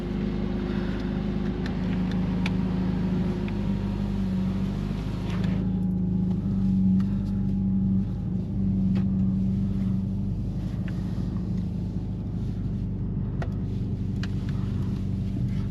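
A 2026 Mercedes-AMG CLA 45 S coupe with a 2-liter turbocharged inline-four, accelerating in Sport Plus mode, heard from inside as a steady droning engine hum with a faint whine and no talking.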